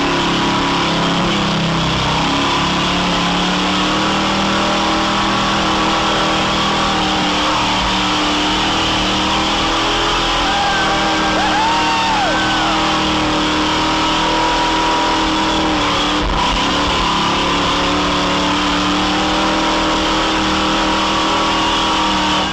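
Off-road truck with a 327 engine revved hard at the end of a mud pit, already knocking before it blew; a loud, continuous engine roar with steady rising and falling revs and no talk.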